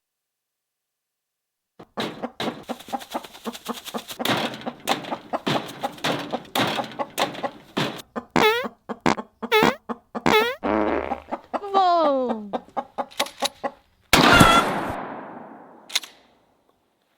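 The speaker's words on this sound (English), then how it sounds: "Kill the rooster." A rooster clucks and crows in a series of harmonic calls amid loud, choppy bursts and a short blast near the end, with a voice exclaiming briefly.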